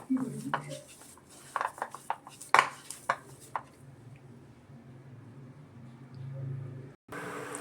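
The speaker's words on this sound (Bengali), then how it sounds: "এবার এটি ভালো করে ম্যাশ করে নেব।" Boiled potatoes mashed in a bowl for Korean-style potato balls, a series of soft clanks and squishy presses from a utensil, with several sharper taps early, then quieter mashing, close and moderate in level.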